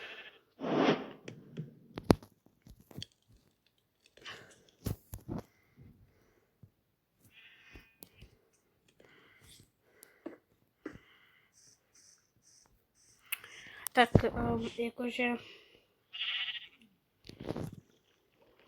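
Sheep bleating in the video game Minecraft, several short bleats spaced out over sparse clicks and game sounds, with a brief spoken remark near the start.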